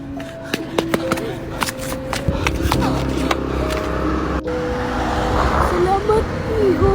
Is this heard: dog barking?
no